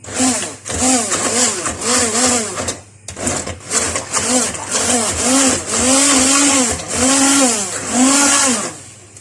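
An electric blender whirs loudly, mixing onion, its motor pitch rising and dipping in repeated pulses of several seconds with brief pauses, close and dominant throughout.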